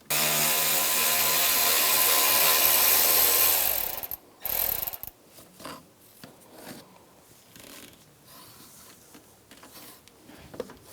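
Ratchet wrench working a bolt on the AC condenser of a 2004-2009 Toyota Prius, with a long loud whirring burst followed by scattered close clicks, scrapes and rattles.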